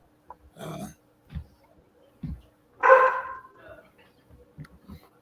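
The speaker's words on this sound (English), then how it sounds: "He was barking at the Amazon guy." A dog barks a handful of times nearby, short gruff woofs separated by quiet pauses, one louder bark in the middle.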